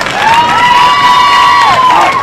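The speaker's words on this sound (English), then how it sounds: "Let's give her a nice round of applause" A livestock-show audience at a junior stock show cheers loudly for a young exhibitor, a sustained high whoop carrying over a crowd murmur for a couple of seconds.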